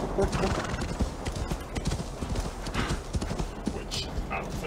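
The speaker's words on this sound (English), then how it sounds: "When you need to call your horse," A horse gallops with rapid clip-clopping hoofbeats and lets out a neigh in Assassin's Creed Valhalla, close and loud, while players talk excitedly over the action.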